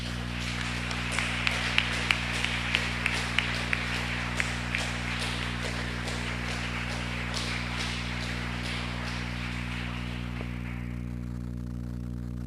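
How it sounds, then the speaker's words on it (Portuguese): A church congregation claps during a Sunday communion service, a scattered run of hand claps under steady low hum that thins and fades out after several seconds. "Dá uma salva de palmas para Jesus."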